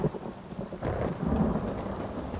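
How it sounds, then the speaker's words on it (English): A thunderstorm in the video game Elder Scrolls Online, with a low rolling rumble of thunder that swells midway over steady rain, moderately loud and with no talk. "There's a big storm."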